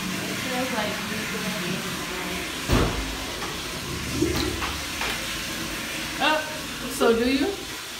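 A college dorm toilet flushing, a loud rushing hiss of water running through the clip while voices talk over it in bursts.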